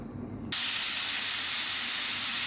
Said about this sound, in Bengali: বড় প্রেশার কুকারে এটা হচ্ছে একটু সময় লাগে নয় মিনিটের মাথায় একটা সিটি দিয়েছে